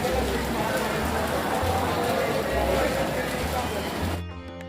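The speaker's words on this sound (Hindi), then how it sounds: "ये बारिश तो खैर आप लोग देख ही रहे होंगे कि किस तरीके से बारिश हो रही है।" Heavy monsoon rain pouring down on the road to the Mahakal temple in Ujjain, a loud, dense, continuous roar of water close by with a voice speaking over it, ending abruptly.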